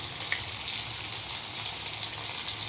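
Tomato and spices sizzle in a pan, a steady close hiss of frying with no talking, for a Kashmiri potato curry.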